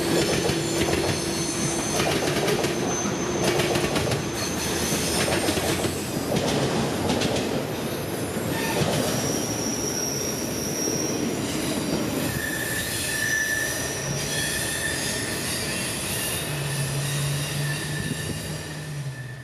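A CSX freight train rolls past on the Florida S-Line mainline, loud and close throughout. Steady rumble and rail clatter run under high, sustained wheel squeals, and the squealing grows more prominent in the second half.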